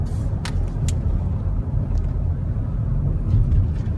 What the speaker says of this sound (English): Just a great Saturday afternoon drive in the country.